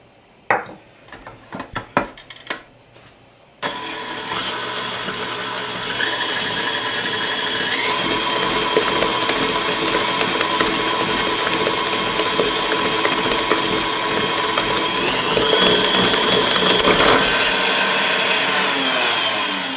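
An electric mixer blends chopped cherries into a soft toffee bar batter; a few light clinks come first, then a loud, steady motor whir starts and runs on, its pitch stepping up partway through.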